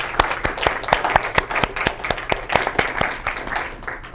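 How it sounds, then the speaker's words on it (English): A small student government senate audience claps for a member in brisk, distinct handclaps, a modest scattered round that stays steady throughout without fading. "So if we could just give a quick round of applause to Jaden for the amount of work that she put into MHA this week"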